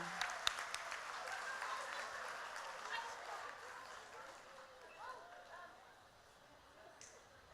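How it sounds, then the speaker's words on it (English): An audience claps for candidates at the close of a Choctaw Nation princess pageant evening, a moderate wash of applause with some individual claps standing out before it fades toward the end; faint voices sound alongside. "let's give another round of applause to all of our candidates this evening"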